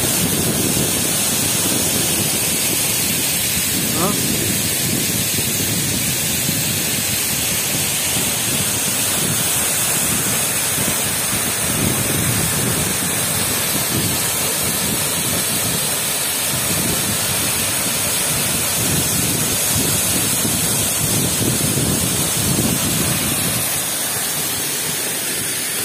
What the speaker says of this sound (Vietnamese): Mà lại có mùa mưa thì nước nó chảy to hết